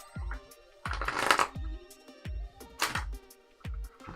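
Tarot cards shuffled in several short bursts of riffling and snapping, each ending with a soft thump, close and fairly quiet, with no talking.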